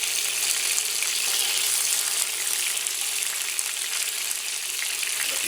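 Stuffed squid fry in a hot pan, a loud continuous hiss of sizzling oil with crackles and spitting throughout, close up and without voices.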